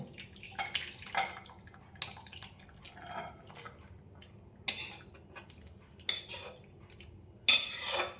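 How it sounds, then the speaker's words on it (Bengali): Soft palm-fruit puli pitha is spooned from a pan into a bowl, with a series of separate clinks, scrapes and wet plops of utensils and dishes against a quiet background, close by and intermittent. "বাটির মধ্যে পিঠেটা ঢেলে নেব।"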